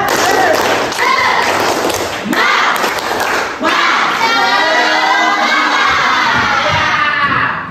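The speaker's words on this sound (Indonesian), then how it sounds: "Kita tepuk semangat." Schoolchildren in an Indonesian classroom doing a rhythmic spirit clap, loud claps and thumps mixed with shouting and cheering voices close by, with a teacher's voice among them.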